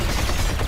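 A power shot fired in the side-scrolling PS4 shooter Matterfall, heard as a dense, loud burst of continuous gunfire filling the whole brief moment with no letup.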